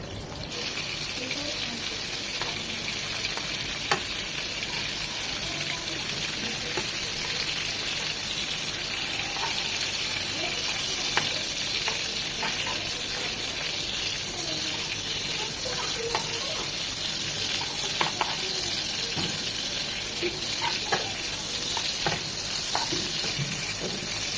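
Prawns fry in a pan for a Bengali prawn curry, with a dense, continuous sizzle and occasional sharp spatters and stirring scrapes over about twenty-four seconds, loud and close, with no talking.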